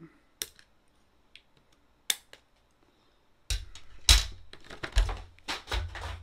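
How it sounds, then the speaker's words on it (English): A Five Nights at Freddy's figure is cut out of its packaging with scissors or a blade, starting as a few isolated sharp snips and then becoming a dense run of crackling plastic and cutting sounds, close and fairly loud. "Let me get the big man himself cut out of here"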